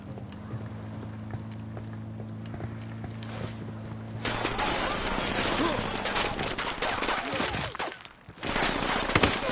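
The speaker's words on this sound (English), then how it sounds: "I'm opening fire on these shitheads" Gunfire erupts in the Ghost Recon video game: after a few seconds of quieter ambience, a dense burst of rapid shots and clatter fills the rest, loud and close, with a brief lull near the end before firing resumes.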